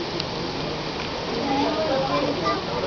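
Heavy rain pours steadily near a forest, a dense continuous hiss throughout with no break.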